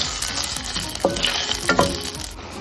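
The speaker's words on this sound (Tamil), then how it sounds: "இதில் போட்டு நல்லா குத்தி கிளறி எடுத்துக்கலாம்" Cooked rice is stirred and pressed into a hot tempering in a pan for ven pongal: a crackling sizzle with two distinct spoon scrapes, close and lively, no voices.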